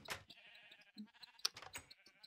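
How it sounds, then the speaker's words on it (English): Sheep bleating in a Minecraft modpack farm, several game-sound bleats overlapping in quick succession at moderate volume, with a few short clicks between them and no talk. "here's all the sheep"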